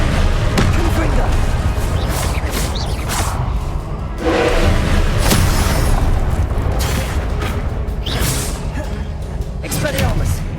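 Confringo blasting spells explode in Hogwarts Legacy combat, a series of loud booms and thuds over busy battle noise, with a voice calling out spell names among the blasts.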